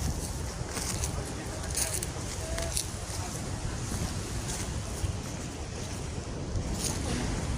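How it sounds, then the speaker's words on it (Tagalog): Strong sea waves roll continuously along the Ilocos Sur coast, a steady loud wash of surf mixed with heavy wind buffeting the microphone, with no clear breaks between swells. "Lakas talaga ng alon, no?"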